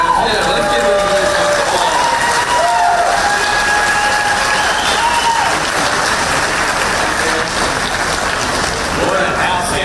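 Loud, sustained applause and cheering from a large crowd at a public event with the U.S. Vice President, dense and continuous for about ten seconds, with a few faint voices mixed into the roar.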